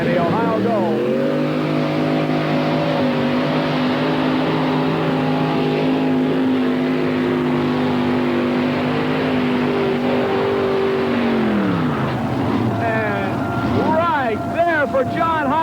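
Heavy modified pulling tractor making a full pull down the track at a 1991 USHRA event in Bowling Green, a loud sustained engine drone that holds steady then drops off near the end, with wind buffeting the microphone.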